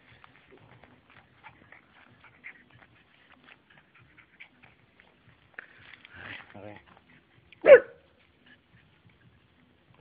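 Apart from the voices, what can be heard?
dog barking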